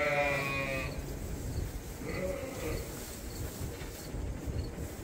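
A ewe on a sheep farm gives a short bleat right at the start, then only rustling outdoor background noise follows.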